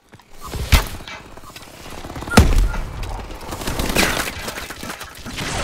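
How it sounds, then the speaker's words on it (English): Dual machine guns firing in Call of Duty: Advanced Warfare, with a couple of hard, loud shots followed by dense, continuous rattling gunfire and mechanical clatter. "it's the dual machine guns"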